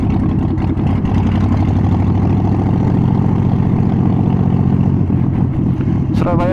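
A Harley-Davidson Roadster 1200 motorcycle engine rumbles close by at a steady idle, its deep, even throb continuous throughout, with a brief higher whine near the end.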